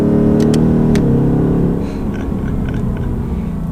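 A 2018 Ford Mustang GT engine revs loudly and close after a downshift to third gear, a deep, throaty roar that surges at first and then settles into a steady drone.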